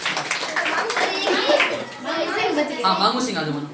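Children in a school classroom clap together in a steady, fairly loud burst of applause, while a teacher's voice speaks over the clapping.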